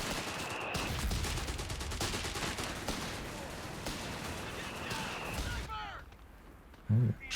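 Gunfire in a Company of Heroes 3 battle, sniper duel included: dense crackling shots and bursts run loud and steady for most of the span, then thin out, with a single sharp heavy report near the end.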